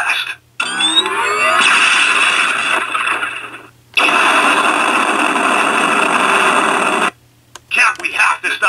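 A Hasbro 2015 Marvel Avengers Age of Ultron Hulkbuster Titan Hero interactive toy plays loud electronic voice lines and sound effects in separate bursts with brief silences between them.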